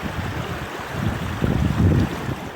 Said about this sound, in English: A lot of heavy water coming through there.